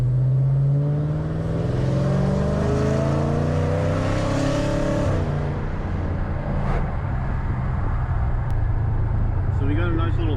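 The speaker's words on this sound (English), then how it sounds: "I'm going to try to keep the windows down right now, hoping the wind noise isn't going to be too bad" A Dodge Challenger Scat Pack with the windows down, its engine droning steadily with rising harmonics as it accelerates, then easing off, with wind and road rush throughout and a voice talking over it.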